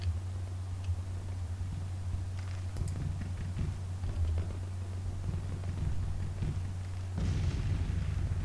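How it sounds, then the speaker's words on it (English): James rifle artillery in a Civil War strategy game, scattered distant booms and faint crackling shots over a steady low hum, with no talking. "That artillery may just be terribly positioned."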